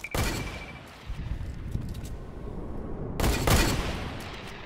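Gunfire in the video game Fortnite, shots aimed upward at an enemy building a tower, loud rapid bursts with a short lull, then another heavy volley.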